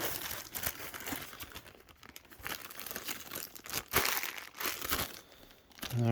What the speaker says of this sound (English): now we're going to take these bags and put them in this Ziploc